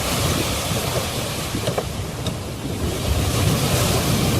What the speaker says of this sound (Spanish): se desató una tormenta tan fuerte que las olas se metían en la barca